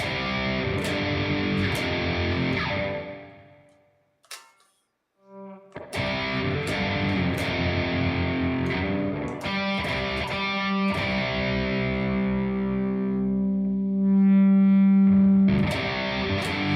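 Heavily distorted electric guitar played into a PC audio interface, sustained dense chords with a brief drop to near silence midway, then a long held note near the end, loud and alone.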